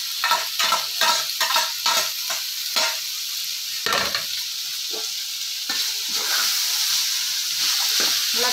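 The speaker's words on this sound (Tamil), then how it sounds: "நல்லா காயோட மிக்ஸ் பண்ணிடலாம்." Boiled egg noodles being stir-fried with vegetables, a steady hiss with repeated quick stirring scrapes and clinks in the first half, then a more continuous sizzle.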